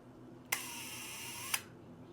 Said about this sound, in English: Shutter's working good.